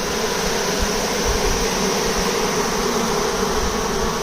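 A swarm of honey bees being dumped into a Layens hive, reacting to smoke, fills the air with a loud, dense, continuous buzzing roar, steady throughout and with no speech.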